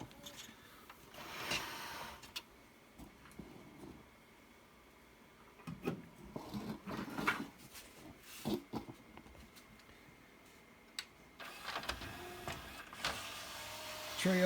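The loading mechanism of a Pioneer CLD-V5000 laserdisc player with a worn loading belt whirs and whines faintly in short motorized bursts, with clicks and clunks of the tray moving close by.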